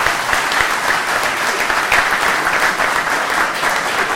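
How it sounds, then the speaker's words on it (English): A crowd at a Bronx community meeting breaks into sustained, loud applause, a dense wash of many clapping hands that holds steady throughout without letting up. "Let's give him a strong round of applause."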